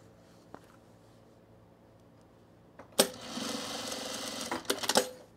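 A sewing machine runs in a steady burst of rapid mechanical stitching while sewing cargo pants, starting abruptly after a quiet stretch with faint clicks and ending in a few uneven final stitches, close and fairly loud.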